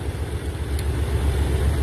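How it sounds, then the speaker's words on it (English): Car engine revving with the cylinder 6 coil pack unplugged, a steady low rumbling drone that holds fairly even and loud, close up throughout with no talking. "we unplugged the coil pack for cylinder 6 and we revved it"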